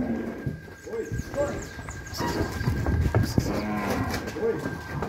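Cattle moo repeatedly in a busy farmyard as cows and bulls are sorted apart, with a voice calling out over the herd and hooves shuffling nearby.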